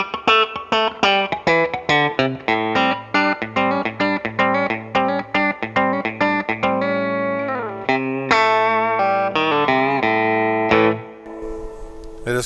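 Clean electric guitar played through a Keeley compressor and a Boss EQ pedal with the mids pushed slightly, giving bright plucked notes and chords in a quick rhythmic pattern, then a few ringing chords that fade out.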